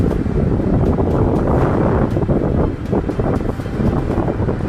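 A loud, continuous roar of rushing water from the Gullfoss waterfall in Iceland in winter fills the scene, heavy and steady, with gusts of wind buffeting the microphone.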